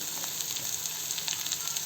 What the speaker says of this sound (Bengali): চলুন পেঁয়াজটা দিয়ে এটা ভাজা ভাজা করে নিই